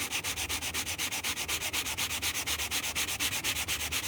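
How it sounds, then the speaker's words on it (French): Fine sandpaper rubs back and forth over damaged leather in a quick, even rhythm of about four strokes per second, soft and close, with no other sounds. "moi je fais ça avec un papier de verre un petit peu plus fin que ça"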